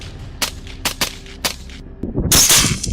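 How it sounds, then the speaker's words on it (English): Rifle shots ring out during a night hunt for a wild boar on farmland, with several sharp cracks spaced apart and then a louder, rougher burst of noise at the end. "Not long after, the first gunshot rang out from Jack's position."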